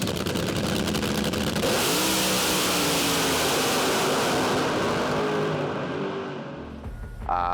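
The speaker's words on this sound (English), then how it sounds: "This is our 2021 DB Race Cars built front engine dragster. It's got a 509 cubic inch big block Chevrolet in it" A 2021 DB Race Cars front-engine dragster with a 509 cubic inch big block Chevrolet makes a loud, close, continuous engine roar that holds steady and eases slightly near the end, with no talk.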